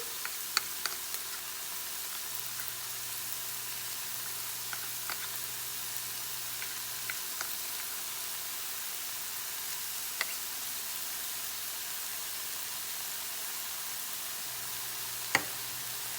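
Sloppy joe sauce of ketchup, honey and Worcestershire sizzles faintly in a pan as it is stirred, a soft steady hiss with a few light scrapes and knocks of the utensil.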